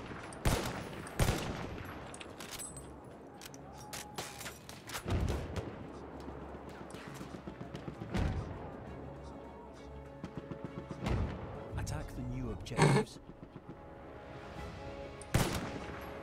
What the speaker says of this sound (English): The enemy barrage.